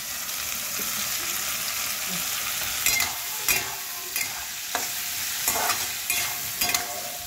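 Fenugreek leaves fry in a pan with a constant crackling sizzle, while a spoon scrapes and stirs in a series of sharp, irregular strokes close by.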